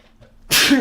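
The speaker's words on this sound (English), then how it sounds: "me sneezing" A single loud, close sneeze bursts out after a near-silent moment, sharp at the onset and trailing off briefly, from a person recording a live Minecraft play session.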